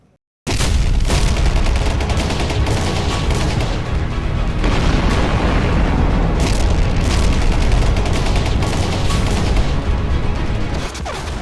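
Explosions and gunfire in the Israel-Hamas war: a loud, close, unbroken roar of booms and bursts rumbles steadily for about eleven seconds, with no voices.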